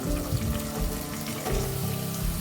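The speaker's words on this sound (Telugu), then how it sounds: "ఒకటి లేదా రెండు ఎండుమిర్చి వేసుకొని ఉల్లిపాయలను బాగా ఫ్రై చేసుకోవాలి" Onions with curry leaves and one or two dried chillies fry in a pan, giving a steady, dense sizzle with watery hiss that continues evenly throughout, close and moderately loud.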